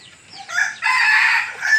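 A rooster crows loudly nearby during a flood, one drawn-out strained call lasting over a second.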